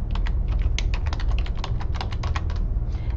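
Fast, steady typing on a computer keyboard, a close run of light clicking keystrokes at an even pace with no speech.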